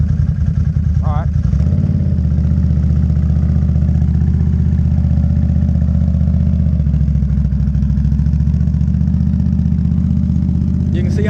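Engine of a Can-Am Outlander ATV running steadily and loud throughout, a continuous low mid-pitched drone close by with a slight revving change near the start and faint voices underneath.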